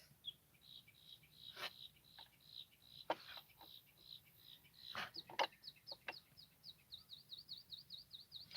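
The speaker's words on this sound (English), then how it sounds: "Do you hear the birds?" Outdoor birdsong with repeated chirps and trills, mixed with occasional clucking from chickens, steady and moderately close against a quiet background.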